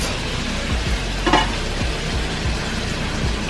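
Cajun pasta noodles being stirred in a hot pan, a steady sizzle and frying hiss with soft scraping strokes repeating under it, close and continuous with no talking.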